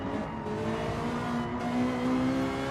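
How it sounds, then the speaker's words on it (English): Ferrari and Honda race cars in a racing video game at Dragon Trail Seaside, a sustained engine whine rising in pitch as the cars accelerate down the start-finish straight, steady and close. "The Ferrari carrying more speed than the Honda down the start-finish straight."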